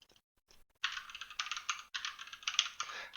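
Rapid clicky keystrokes on a new computer keyboard, a quick irregular burst of typing after a short pause, close and fairly quiet with no talk.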